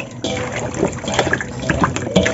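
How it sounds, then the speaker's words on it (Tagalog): Brine for fried chicken is stirred to dissolve lumps of powder into the water, giving continuous close sloshing and liquid swirling with small splashy accents. "So tunawin lang natin yan, haluin natin ng mabuti."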